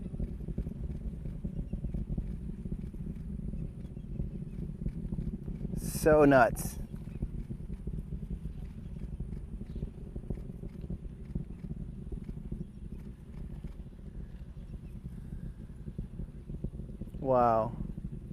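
The SpaceX Falcon Heavy rocket's 27 Merlin engines rumble at launch, heard from about five miles away as a deep, continuous low roar, with two brief high whistling or voice-like sounds over it.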